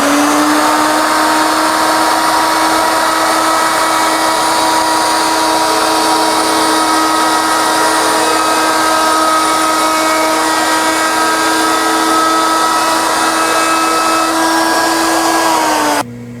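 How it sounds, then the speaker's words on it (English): A power tool works a wooden cup on a barley twist candlestick holder, rounding over its lip: a loud, steady whine with a constant pitch that carries on for about sixteen seconds, then cuts off abruptly, with no talk. "The last step will simply be to round over the lip of the cup."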